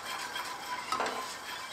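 An egg mixture being stirred in a pan over a low flame, with a quiet, continuous soft scraping and faint sizzle.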